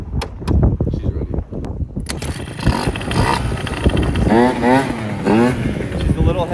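A Yamaha JOG 3KJ scooter engine on a test run, set with heavy rollers: after some clattering handling noise, the small two-stroke motor runs and revs with rising and falling pitch, close by, while someone talks over it.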